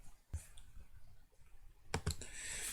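Computer keyboard and mouse clicks at a desk while working in FreeCAD, a few sharp isolated clicks followed by a quick cluster of keystrokes, close and faint over low room noise.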